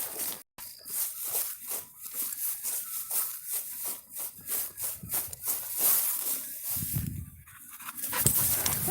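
A puppy pants hard and rhythmically at close range while running in a field, with quick, loud breaths throughout and brushing noises near the end.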